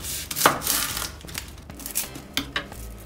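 An onion being chopped on a wooden board with a knife for pomegranate guacamole, giving a handful of crisp, close knocks at uneven intervals.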